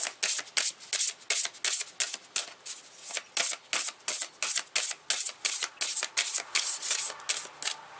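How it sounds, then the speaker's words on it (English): Tarot cards are shuffled in quick repeated riffles, a rhythmic series of crisp flutters and slaps, close and clear with no talking. "Let's see if we can shuffle them this way."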